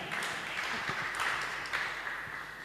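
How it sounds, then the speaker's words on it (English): Audience applause at a panel discussion as a speaker is welcomed to the stage: a steady, fairly distant wash of many hands clapping, even in level, with no talk over it. "Give her a round of applause to encourage her."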